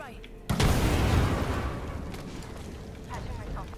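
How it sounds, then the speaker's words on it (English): A grenade explodes in Apex Legends, a sudden loud boom that rolls on as a rumbling wash and slowly fades, with players talking faintly underneath. "He threw a nade, though."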